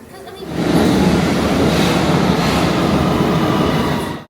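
A London Underground train rumbles loudly and steadily, a dense rolling roar that holds for several seconds before cutting off.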